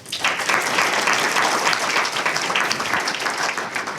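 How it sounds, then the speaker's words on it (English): Dense, loud applause from an audience at an evening Scouting awards dinner in a manor banquet hall, a sustained wash of many clapping hands that holds steady throughout. "let me give Robert a round of applause for being our Chairman, Master of Ceremonies"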